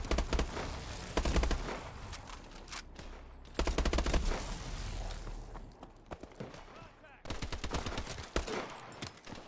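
Covering gunfire in Call of Duty Advanced Warfare: repeated rattling automatic bursts arrive in three main waves, fairly loud and close, with a voice talking over parts of the firing.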